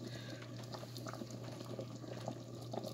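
Chicken and dumplings in cream of chicken sauce bubble inside an Instant Pot, a quiet, steady simmer with small pops and a faint hum underneath.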